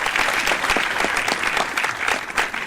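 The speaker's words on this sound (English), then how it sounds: "Give Keith Thompson a round of applause." A room full of people bursts into sustained applause, dense and fairly loud, with individual sharp claps popping out of the steady crackle and no speech over it.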